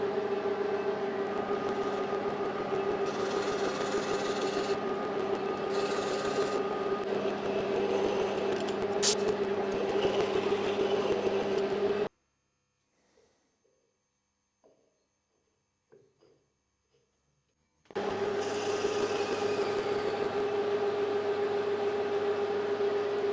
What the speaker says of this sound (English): So I'm going to create and bore a 15 millimeter hole in there to put the aluminium tube in.